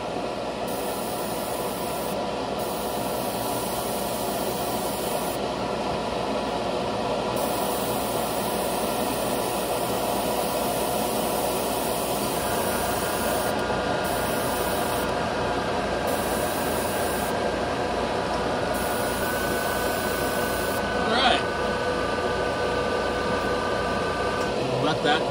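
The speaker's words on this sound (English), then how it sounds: "Running my compressor at about 25 psi." An air compressor runs at about 25 psi for airbrush priming of fishing lures, giving a steady hum and hiss with a cycling pulse partway through, while a voice talks over it.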